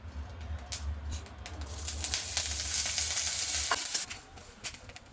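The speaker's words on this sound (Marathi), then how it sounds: "तर आता मी याच्यामध्ये मिरच्या भाजून घेते थोडंसं तेल टाकून" Green chilies roasting in a little oil in a pan, giving a close, steady crackling sizzle that builds toward the middle, with a low background hum and a few scattered pops.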